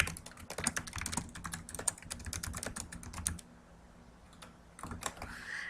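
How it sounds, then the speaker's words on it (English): Rapid typing on a computer keyboard, entering a question into a Google Forms box: a dense run of close, crisp key clicks that pauses briefly, then resumes with a few more keystrokes. "So you type your question right into the box."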